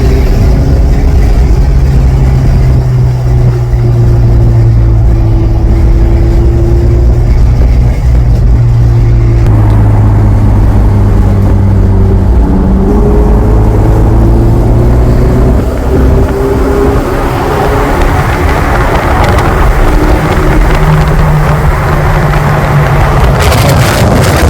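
Lamborghini and Ferrari high-performance sports car engines, loud and close, with sustained droning revs whose pitch rises and falls over the length of the clip, then a rougher acceleration toward the end, and no talking.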